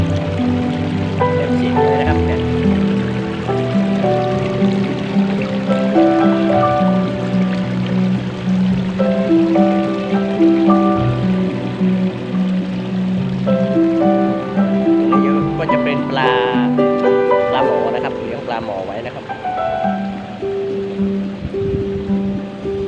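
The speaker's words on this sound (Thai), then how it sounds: "น้ำตกแบบได้สวยงามมากครับ" A rocky waterfall on a farm garden rushes steadily with a dense, continuous wash of flowing water, heard close and loud throughout, with music or tonal sounds layered over it.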